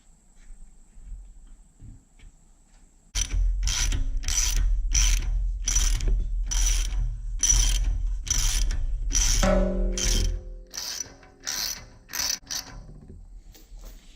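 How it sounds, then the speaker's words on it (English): A torque wrench ratchets and clicks while bolts are tightened on an engine during a 1973 Dodge Dart build, with a fast regular run of sharp ratcheting strokes close up and a few final clicks, no talking. "And click, I'll call that torqued."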